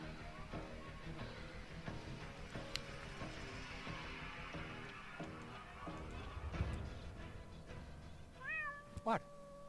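A cat meowing while stuck up a tree in the Deponia video game: a couple of clear, rising meows near the end, over busy game sounds, music and voices.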